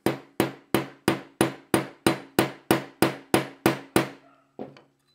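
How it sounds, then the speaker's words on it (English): A small hammer strikes a steel punch to drive a pin out of a Sig pistol's extractor, twelve sharp evenly spaced metallic taps followed by a softer final tap, close and without talking. "And then take a small hammer, and let's see if we can just drive this guy out of here."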